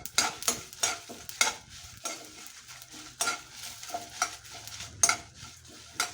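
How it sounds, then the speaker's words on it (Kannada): Curry leaves and coriander being dry-roasted and stirred in a pan for mango sambar, with light sizzling and repeated scraping strokes of a spoon against the metal, close and fairly quiet, no talking. "ಎಲ್ಲವನ್ನು ಚೆನ್ನಾಗಿ ಹುರಿಬೇಕು."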